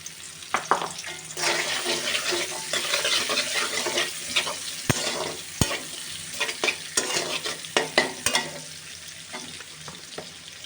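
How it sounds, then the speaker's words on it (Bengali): Chopped onions sizzle in hot oil in a pan, with scraping stirs and occasional sharp clinks of a utensil against the pan over a steady frying hiss, close and moderately loud. "এবার এই তেলের মধ্যে আমি পেঁয়াজ কুচিগুলো দিয়ে দেব।"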